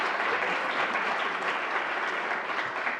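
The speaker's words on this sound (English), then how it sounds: "Let's give them another round of applause." An event audience gives students a round of applause at a career center launch, producing steady, full clapping that holds at an even level for the whole stretch without a break.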